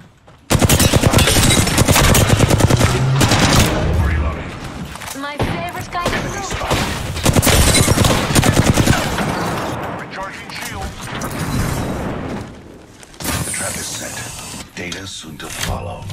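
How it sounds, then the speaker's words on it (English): Rapid, dense gunfire rattles almost nonstop through a video game shootout, loud and close, with mechanical clatter and game voice lines laid over the shooting. "They're shooting at me."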